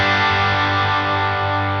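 Clean electric guitar tone through a NUX Ace of Tone dual overdrive pedal with the drive switched off and tone near two-thirds, a steady sustained chord ringing at even volume, alone without talk.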